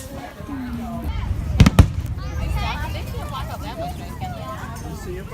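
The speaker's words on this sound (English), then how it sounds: "I'll get back to you guys when the fireworks start." Two sharp firework bangs in quick succession outdoors, fairly close, followed by crackling and a lingering rumble, with people talking and chattering throughout.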